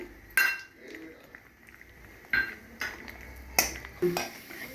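Cashews frying in ghee in a pan for semiya payasam, stirred with a utensil. A few sharp metal clinks and scrapes ring out at uneven intervals over a quiet background, with no voices.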